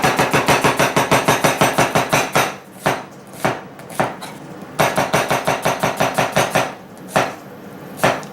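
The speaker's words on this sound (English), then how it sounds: "I'm going to cut this into julienne strips real time." Knife chopping onion into julienne strips on a cutting board, a fast run of crisp, evenly spaced thuds close by, then slower, scattered chops, with no talking.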